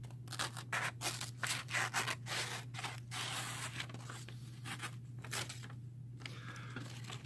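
A Lev-R-Lok knife cuts through material in a run of short, rhythmic scratchy slicing strokes, close and fairly quiet over a steady low hum.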